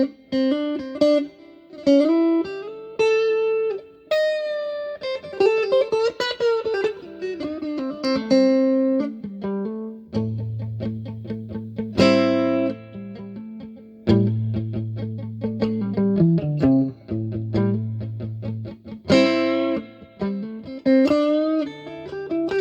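Electric guitar played through a Fender Champion 110 amp cranked to 10, loud and steady, with sustained chords and single-note lines carrying a bright, slightly driven tone throughout, with no talking.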